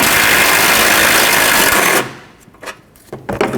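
A power tool, likely an impact driver or drill, buzzes steadily for about two seconds while removing the 10mm nuts holding the washer fluid reservoir on a 2005-2010 Pontiac G6, then stops, leaving a few faint clicks and handling noises.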